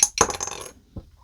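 A die is rolled onto a hard surface, with a sharp clatter, a quick series of tumbling rattles, then one last soft tap as it settles, close and with no talking.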